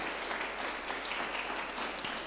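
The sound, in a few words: applause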